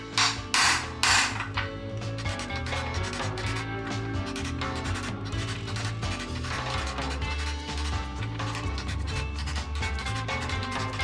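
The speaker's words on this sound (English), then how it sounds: "Now we're just going to tap." A hammer taps on a motorcycle gearbox part while sealing up the primary, giving quick metallic knocks at the start followed by a steady, dense mechanical clatter and ringing tones throughout.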